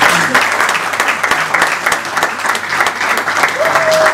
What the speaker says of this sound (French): Je vous demande encore de l'applaudir bien fort